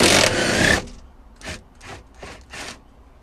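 A 14 mm socket wrench loosens a car seat belt bolt in a Lexus SC300: a long scraping turn, then four short, evenly spaced ratcheting clicks, close and fairly loud.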